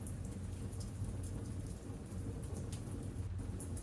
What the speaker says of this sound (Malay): Hujan yang turun sebentar tadi sudah mula turun dengan lebih lebat.